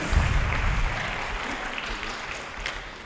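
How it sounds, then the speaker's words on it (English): An audience at an 8th grade moving-up ceremony applauds award winners, a full round of clapping that starts loud and slowly tapers off over a few seconds. "let's give a round of applause to our E&L"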